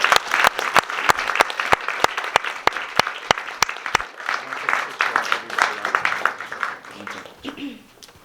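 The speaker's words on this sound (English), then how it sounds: "One more round of applause for everyone." A festival crowd at a filmmaker panel claps, with sharp early claps building into a dense round of applause that fades toward the end while voices talk over it.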